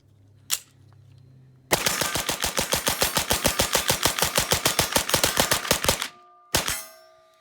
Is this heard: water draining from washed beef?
no